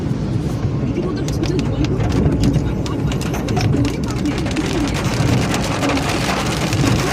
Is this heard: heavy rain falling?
yes